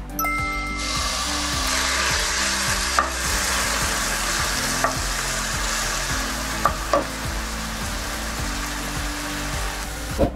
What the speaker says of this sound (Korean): 자 이렇게 달궈진 팬에 기름을 좀 두르시고